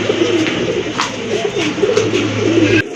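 Rajgolla pigeons coo repeatedly in a close, loud series of rolling, throaty calls, with faint chirps and clicks in the background and no talking.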